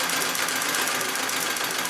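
A Singer 66 treadle sewing machine stitching free-motion quilting runs in a steady, continuous mechanical whir close by, with a fast even rhythm and no pauses or voices.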